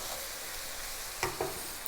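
Garlic ginger paste sizzles in a hot pan for a lamb and potato curry: a steady, soft frying hiss, broken near the end by a couple of short stirring scrapes.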